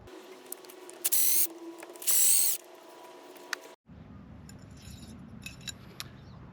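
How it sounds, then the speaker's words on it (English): A small metal washer slid onto a part of a homemade trophy during assembly, giving light metallic scrapes and clinks up close, with a couple of louder brief grinding bursts early on and then quieter faint handling noise. "just sliding the washer on there"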